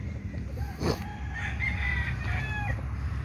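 A champion fighting cock crows once, clear and close, its long drawn call rising over a steady low hum of farmyard background noise.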